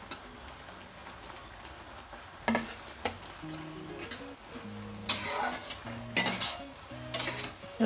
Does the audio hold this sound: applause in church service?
no